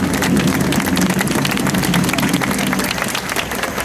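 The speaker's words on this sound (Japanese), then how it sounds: "もう一度大きな拍手よろしくお願いします。" A large protest crowd outside the National Diet main gate in Tokyo claps loudly and continuously, a thick, sustained wash of applause at an evening anti-war rally.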